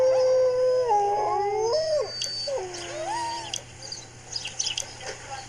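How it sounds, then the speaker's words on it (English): Greenland dogs, one of the oldest dog breeds, howl in long rising and falling wails, several voices overlapping close by before trailing into scattered yelps and whimpers. "The Greenland dogs here are the living inheritors of the ancient wolf's genome."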